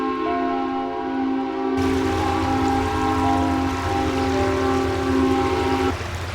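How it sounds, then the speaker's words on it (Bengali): A cartoon motor launch ferry approaches a river ghat at night: a steady, loud engine drone with a sustained horn-like hum that swells in partway through and holds, then cuts off near the end. "এই যে একটা লঞ্চ এগিয়ে আসছে।"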